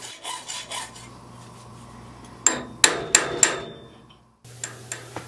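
A hammer drives a cold chisel through metal held against vise jaws while a simple spring latch is forged. Faint rasping comes first, then four sharp, ringing blows close together, a short silence, and lighter taps.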